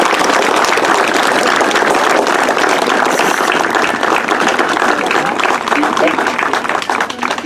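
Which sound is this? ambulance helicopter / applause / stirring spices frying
applause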